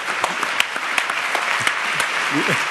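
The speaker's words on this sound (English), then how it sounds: "I would like to ask you to get up and clap for Kofi Annan." An audience applauds Kofi Annan with steady, dense clapping throughout, heard close and alone.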